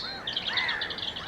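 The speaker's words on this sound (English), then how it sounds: "there are robins busily singing, establishing their territories" Robins singing along woodland paths at a nature reserve in late February, a series of bright, high warbling phrases repeated quickly over about a second, fairly close and clear with no talk.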